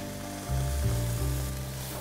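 White wine poured into a pan of mushroom ragu, setting off a steady sizzle. A low hum swells partway through, and no one speaks.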